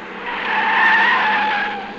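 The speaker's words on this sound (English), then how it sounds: "Oh, a car!" A loud, sustained tire screech from a car skidding, rising and then fading over a couple of seconds with no voices.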